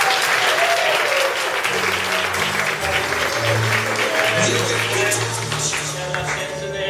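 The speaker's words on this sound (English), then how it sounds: "So give them a round of applause." Audience applause at an improv comedy showcase, steady and loud throughout, with low sustained tones of music or voices underneath.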